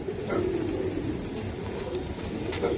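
Pakistani flying pigeons coo in soft, low, continuous murmurs, nearby and steady under a noisy backdrop with no talk.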